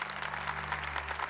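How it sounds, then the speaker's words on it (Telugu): Children clapping together at a school gathering in a Telugu film, a dense, even burst of applause heard close up over a low hum. "చప్పట్లు కొట్టండి."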